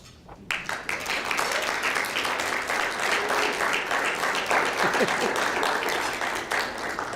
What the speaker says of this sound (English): So please be sure to congratulate each of these students.